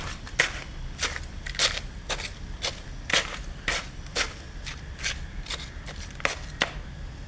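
Potting soil in a flower pot is poked and loosened for planting garlic: a close, steady series of crunchy, gritty jabs about twice a second, each a short scraping crush, with no one speaking.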